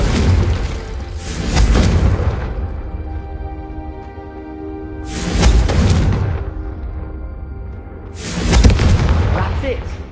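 Three heavy booming explosions from the Confringo fire spell in Hogwarts Legacy, the video game, spaced a few seconds apart, each a loud burst that fades into a crackling rumble.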